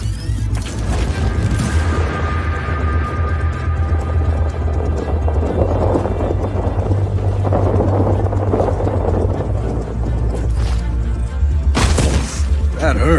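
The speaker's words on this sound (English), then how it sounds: "Choppers and troops headed this way, Rico." Helicopters approach in a Just Cause 4 mission, a loud steady rotor drone rumbling close, with booms, crashes and a voice over it.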